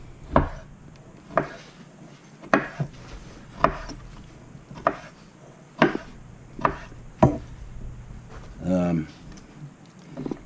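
A German steel chef knife chops meat into 1-inch cubes on a board, giving about ten sharp, separate knocks at a steady, unhurried pace, close and clear, with a short burst of talk near the end.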